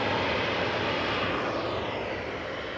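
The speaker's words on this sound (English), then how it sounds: "We've got an E2 in the house on approach." A KLM Embraer E2 jet on approach makes a steady, fairly faint engine roar that swells slightly and then eases off, heard alone with no talk.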